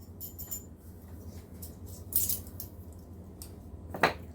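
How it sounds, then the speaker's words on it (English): A set of metal measuring spoons jangles briefly as it is picked up, with soft clinks near the start, a fuller rattle in the middle and a sharper jingle at the end, close and fairly faint. "Let me grab another set of measuring spoons"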